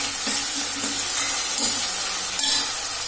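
Onions and tomatoes with salt sautéing in a pan for a kaadai quail gravy, a soft steady sizzle and hiss with light stirring, no talking.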